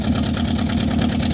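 A C3 Corvette idles with a badly leaking exhaust manifold, a loud steady rough rumble with a rhythmic pulsing puff throughout.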